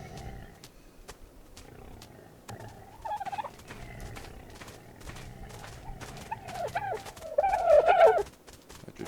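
Several chicken-like birds in the survival video game Alemia give gobbling, clucking calls over a steady ambient background, with a louder burst of calls near the end and scattered clicks throughout.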